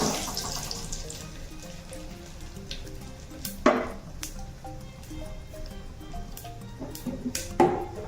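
Cumin seeds frying in oil in a clay pot for village-style moong dal dalma, giving a soft crackling sizzle with scattered sharp pops and clinks of utensils, close and moderate in level, with no voices.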